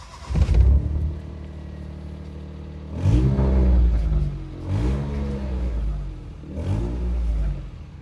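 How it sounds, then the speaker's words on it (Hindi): A Suzuki Mehran running on petrol starts with a loud burst, then revs three times in swelling vroom pulses that fall back to a rough idle between them, close and loud, with no talking. "ये देखें अभी मैं स्टार्ट करूँगा, देखना पेट्रोल पर ही है"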